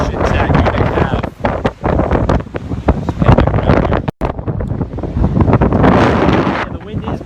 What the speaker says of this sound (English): the wind is gusting out of the northeast